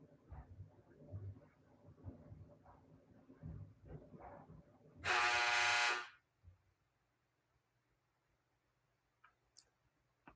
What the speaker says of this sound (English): It was the buzzer of good news.